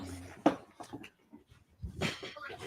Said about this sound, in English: we got a dog, bro.